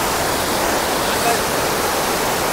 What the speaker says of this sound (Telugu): సో ఫైనల్లీ అయితే మనము ఇరుపు వాటర్ ఫాల్స్కి రీచ్ అయిపోయాము అనమాట.